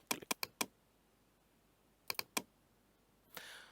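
Mouse clicks on a computer while restarting JMeter software: a quick run of four sharp clicks, a pause, then three more close-up clicks, followed by a brief soft rustle.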